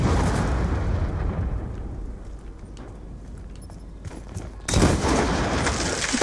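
A bazooka explosion in the video game Call of Duty: Black Ops 2 erupts as a loud burst and rumble that fades into a quiet lull, then a second heavy blast sounds near the end.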